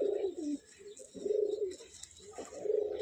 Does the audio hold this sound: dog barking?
no